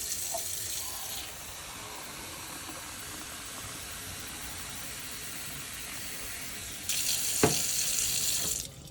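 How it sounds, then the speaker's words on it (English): Tap water runs steadily into a measuring cup at a kitchen sink, a soft continuous hiss and splash that swells into a brighter, louder rush near the end with a short clunk. "fill it with water."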